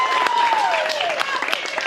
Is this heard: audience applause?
yes